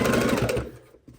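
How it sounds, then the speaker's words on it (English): A sewing machine runs steadily while stitching quilt binding, a loud close whirring that stops near the end, followed by a brief faint noise. "And you're simply sewing about 2 inches"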